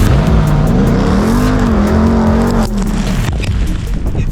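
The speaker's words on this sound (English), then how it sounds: "that 702 horsepower V8 screaming out of the back exhaust, and you get that blower whine just resonating through the cabin" Ram 1500 TRX supercharged 702-horsepower V8 revving off-road, a loud sustained engine roar with rising and falling pitch, heard close with no talk.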